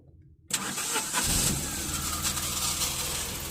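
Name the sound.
Tata Nano car engine starting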